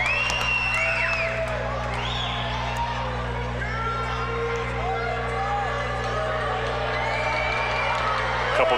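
A packed indoor basketball arena crowd at The Aud erupts for a made free throw in a KW Titans vs. Niagara River Lions game, with loud sustained cheering, whoops and high shouts that swell and stay dense throughout.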